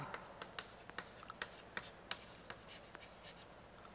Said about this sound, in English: Carl, I will just write it down here, Carl Zeiss Jena.